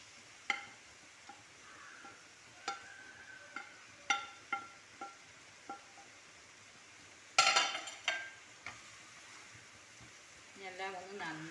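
Soya chunks being stirred in a pan with soy sauce: spaced spoon clinks and scrapes against the pan, faint and intermittent, with a brief louder clatter midway and a soft sizzle toward the end.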